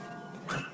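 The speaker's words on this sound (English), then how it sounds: "Now Sassy decides to bark at golfers" A dog in a suburban yard barking at golfers outdoors, one short, fairly faint bark rising out of quiet background noise at a distance.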